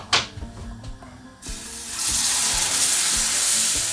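Vegan knafeh mixture poured into a hot non-stick pan, starting with a few soft knocks and scrapes, then breaking into a steady, loud, broad sizzle that holds evenly to the end.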